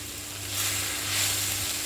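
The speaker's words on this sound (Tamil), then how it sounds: "நல்லா இப்போ வதக்கிடுங்க" Manathakkali greens sautéing in sesame oil over a medium flame give a steady close sizzle, swelling and easing slightly as the leaves are stirred, with a faint low hum underneath.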